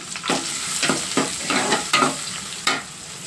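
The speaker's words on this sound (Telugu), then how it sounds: "ఉల్లిపాయ ముక్కలు పచ్చిమిర్చి ముక్కలు కూడా ఈ ఆయిల్ అనేవి వేసి ఇవి కూడా కొంచెం గోల్డెన్ బ్రౌన్ వచ్చేంత వరకు వేయించేసుకుంటే సరిపోతుంది" Chopped onion and green chilli frying in oil, a close sizzle broken by several stirring scrapes and bursts every half second or so, no talking.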